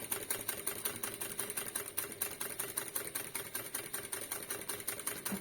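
A sewing machine stitches a quilt, its needle running in a steady, fast rhythmic chatter, close and fairly quiet, without talk.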